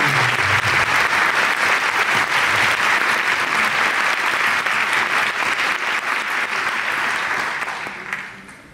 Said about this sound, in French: vous pouvez vous applaudir, le public, vous êtes formidable ici